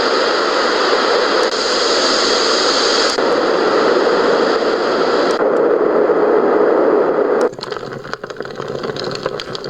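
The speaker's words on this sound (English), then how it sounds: "And then white noise at various tonal frequencies." A Three Sheep sleep machine plays a steady, loud hiss of white noise that changes tone in distinct steps, shifting to a darker, rougher texture near the end.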